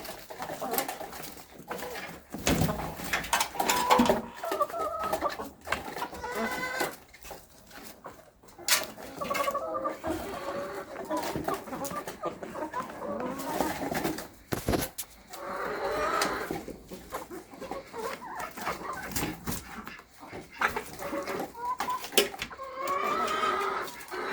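Backyard hens let out onto greenery give repeated clucks and short calls, close and fairly loud, scattered irregularly over a continuous bed of other bird and farm-animal noises.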